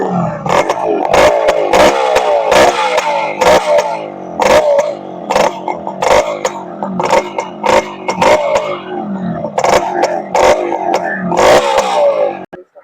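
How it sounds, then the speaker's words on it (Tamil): A modified Yamaha RX100 motorcycle, freshly painted, revs its engine close by with a loud, wavering roar broken by repeated sharp cracks and pops, running steadily for about twelve seconds. "வண்டியோட பீட் சவுண்ட் காட்டுறேன் பாருங்க ஃப்ரெண்ட்ஸ்."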